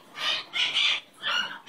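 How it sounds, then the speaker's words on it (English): A pet bird perched on a person's leg gives four close, bright squawking calls in quick bursts with short pauses between them, and no one speaks. "You're a good bird."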